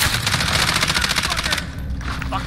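Rapid automatic gunfire in Call of Duty, bullets punching through walls in a dense sustained burst that cuts off partway, loud and close with faint game ambience after.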